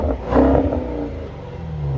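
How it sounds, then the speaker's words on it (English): A McLaren 765LT Spider engine revs up sharply and the exhaust roars loudly for a moment, then settles into a steady rumbling idle close by. "listen to this exhaust in the back"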